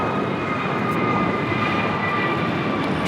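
A jet airliner takes off from LAX, its engines giving a steady, broad roar that holds level throughout, with a faint tonal whine above it and no voices.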